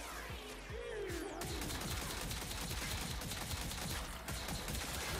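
Tenet Tetra rifle from Warframe firing a continuous stream of rapid shots, with close, sharp reports and a brief whooshing effect early on.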